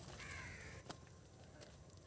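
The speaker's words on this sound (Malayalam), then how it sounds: "ഇഷ്ടംപോലെ പക്ഷികളൊക്കെ ഉണ്ട് കേട്ടോ" Crows caw on Pathiramanal island in the Alappuzha backwaters, a faint distant call or two rising over a soft outdoor background, with no talk.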